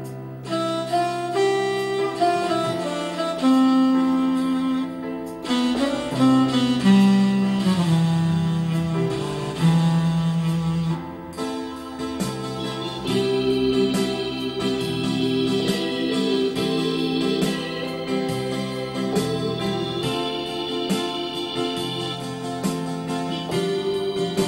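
Yamaha PSR-E423 keyboard playing its ballad sound, a continuous melodic passage of layered sustained notes and chords with accompaniment, steady and full throughout.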